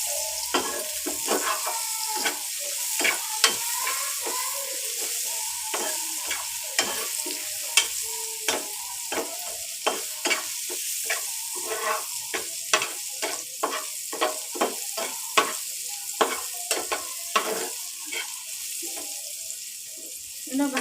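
Egg frying in a pan with turmeric and chili powder, a steady sizzle broken by frequent clinks and scrapes of a spatula stirring, close and fairly loud, with no talking.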